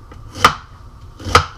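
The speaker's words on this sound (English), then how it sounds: "Onion, cut it" A knife chopping an onion on a board: two sharp, distinct cuts about a second apart, loud and close, with no talk.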